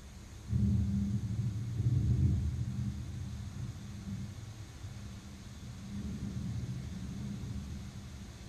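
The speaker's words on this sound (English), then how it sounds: "This is the sound of a thunderstorm." Thunderstorm ambience played through a Google Home smart speaker: low rolling rumbles of thunder swelling near the start and again later over a continuous soft rain-like hiss, with no voices.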